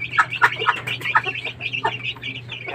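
Hungry young chickens kept as backyard poultry, a busy cluster of short high clucks and peeps, close and fairly loud over a low steady hum.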